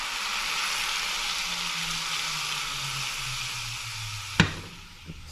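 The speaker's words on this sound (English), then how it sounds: "you pour the boiling oil on there, and be careful and stir" Boiling oil poured over a mixture sizzles with a steady, bright hiss, broken near the end by a single sharp clatter.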